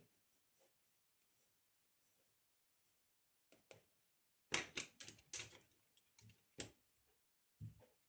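A pencil scratches across paper while a frontal portrait is sketched, with faint sparse strokes at first and then bursts of quick, louder scribbling, close and crisp in an otherwise quiet room.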